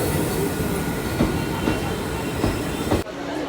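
Passenger train running on rails, a steady loud rumble with faint rhythmic wheel clacks, heard from on board, cutting off abruptly near the end.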